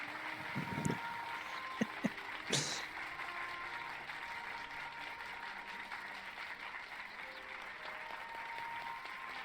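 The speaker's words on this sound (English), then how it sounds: "Golf claps all around," Light, polite golf claps from a small crowd patter quietly and steadily in the background of Final Fantasy XIV Shadowbringers, faint throughout with a few sharper taps early on.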